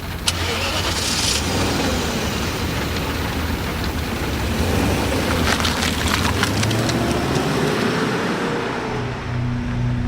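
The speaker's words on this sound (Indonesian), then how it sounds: "Mobil mulai bergerak, membelah hujan malam." A car engine turns over and catches, then the vehicle idles and pulls away through a rainy night, with steady rain hiss throughout and the motor rising under it, close and fairly loud.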